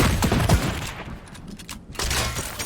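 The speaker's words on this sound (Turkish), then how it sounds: "Sen kime sıkıyorsun lan?" Sharp gunfire bursts from the Fortnite battle royale game hit loud and close at the start and again near the end, separated by a quieter stretch with faint crackle.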